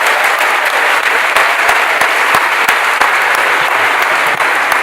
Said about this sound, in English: so could you give them a round of applause again?